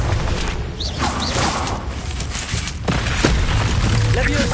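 Spells cast in Hogwarts Legacy burst and boom in rapid succession during a fight, with dense crackling impacts under a voice shouting incantations.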